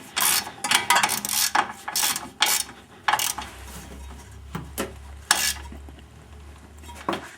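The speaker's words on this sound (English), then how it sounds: "that'll hold it still enough for me to torque my bolt down" Ratchet clicking in short bursts while torquing down a bolt on a Subaru GL axle ball joint, sharp metallic ratcheting strokes up close, separated by brief pauses.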